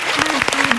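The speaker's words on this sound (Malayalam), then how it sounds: "നല്ലൊരു കൈയടി." A studio audience on a comedy show breaks into applause, a brief burst of clapping heard alongside a voice speaking over it.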